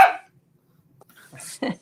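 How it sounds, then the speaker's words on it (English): A small dog barks at people out by a pool, one sharp bark up close followed by a quieter pause, then a couple of quick yappy barks, loud against otherwise silence. "our little doggy Loki. He hears Stinker. people out at the pool. Be quiet"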